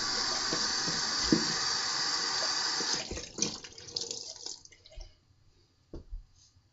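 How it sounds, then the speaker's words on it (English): A bathroom tap runs steadily for a cold-water face rinse, a bright continuous gush that stops after about three seconds, followed by drips, splashes and hands moving in water. "Cold water rinse."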